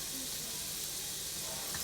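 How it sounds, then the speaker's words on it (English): Butter or margarine melts in a pan over the heat, giving a steady, even sizzling hiss that holds without a break. "we're going to let that just simmer all the way down until it's melted"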